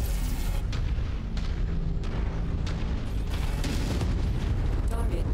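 Heavy weapons fire and explosions rip into a tank during MechWarrior 5 combat, a dense continuous barrage of booms and bursts with sharp blasts standing out, loud and sustained throughout.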